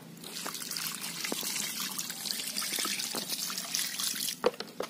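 Water pours and trickles steadily over Robusta Gayo coffee beans being washed, a continuous splashing close by, ending with a few louder splashes.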